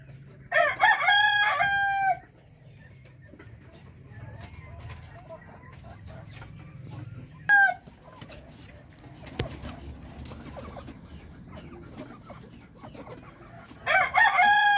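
Native Darag chickens on a Philippine farm: a rooster crows loudly near the start, again briefly midway and once more at the end, with soft hen clucking and low barnyard noise between the crows.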